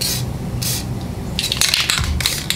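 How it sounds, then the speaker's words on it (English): An aerosol can sprays chain wax onto parts of a Craftsman 27-inch snow blower with a Briggs & Stratton 8hp engine. Two short hissing bursts are followed by a longer, sputtering spray, all close and fairly loud. "Let me get a little bit of chain wax."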